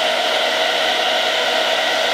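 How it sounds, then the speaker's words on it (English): A hair dryer on its coolest setting blows steadily and loudly up close, drying wig glue, then cuts off abruptly right at the end. "next I'm going to take the hairdryer, and on the coolest setting I'm just basically going to dry it until it gets a bit tacky"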